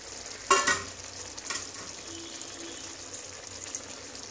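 Amudi fish sliding into a hot pan of oil for a spicy curry, a sharp burst of sizzling and spattering at the start that settles into a steady, quieter frying hiss.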